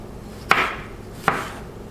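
Two sharp knife chops through tomato onto a cutting board, spaced under a second apart, crisp and close with short juicy tails.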